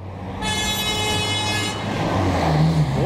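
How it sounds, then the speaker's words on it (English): Car horn honking on a city boulevard, one sustained toot lasting over a second, loud and close, over steady traffic and engine noise. "I like when I turn, this guy's honking"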